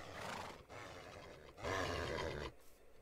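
A horse in the Minecraft video game neighs and grunts as a player tries to tame it, a loud close whinny in two bursts with no talking over it.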